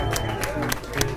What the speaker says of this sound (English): we want a big round of applause